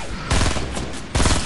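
Rapid, loud gunfire in Fortnite, two dense bursts of automatic shots close by, separated by a short gap and with no talk.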